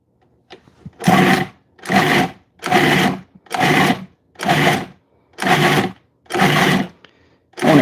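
A food processor pulses tomatoes and peppers for salsa in eight loud, evenly spaced whirring bursts of about half a second each, separated by short silences.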